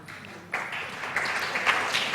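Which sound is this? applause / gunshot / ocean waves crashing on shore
applause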